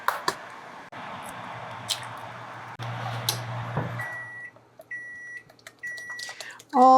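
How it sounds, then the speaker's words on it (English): A microwave oven melting butter, its steady loud hum running for several seconds, then stopping before a series of beeps and a final chime, heard close by in a home kitchen. "And melt this in the microwave."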